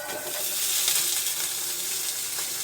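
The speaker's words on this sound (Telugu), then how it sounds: "ఇవి కూడా వేయించాలి పచ్చివాసన పోయేదాకా" Ridge gourd peels and garlic sizzle steadily in a hot pan, a close, continuous frying hiss with faint crackles throughout.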